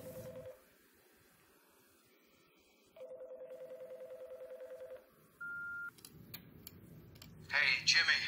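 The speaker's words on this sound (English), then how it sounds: "Jimmy, pick up. Answer your phone" A telephone call rings out through a handset: a short burst of ring tone, a long silence, then a longer buzzing ring, followed by a brief higher beep and some clicks and rustling.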